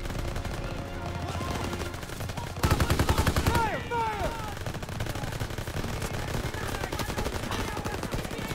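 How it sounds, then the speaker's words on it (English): Gunfire from a World War II shooter game on veteran difficulty, a steady stream of shots with a louder burst of rapid automatic fire partway through, under game music, sound effects and voices. "Are they shooting from there?"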